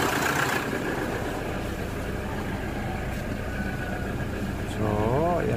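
A Toyota 2KD D4D diesel engine idles steadily after an alternator pulley replacement, a constant low rumble running throughout, with someone speaking over it and a brief rising tone near the end.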